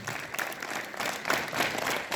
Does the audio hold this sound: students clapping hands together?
yes